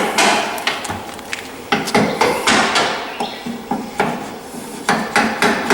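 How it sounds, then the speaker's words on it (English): A hammer taps a metal brace into place near a weld on a fertilizer trailer in quick, sharp, repeated strikes, some in short bursts, close and clear with no talking. "hammer and tap it in there into place"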